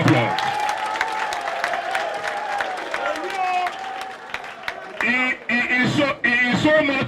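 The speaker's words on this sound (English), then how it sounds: "Ladies and gentlemen, please can we give Eyi Tayo Jegede a round of applause." Audience applause at a PDP prayer gathering of Christian and Muslim leaders, ringing under strong, echoing voices and cheers, growing choppier toward the end.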